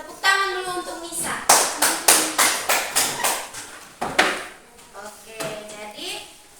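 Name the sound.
classroom clapping for a student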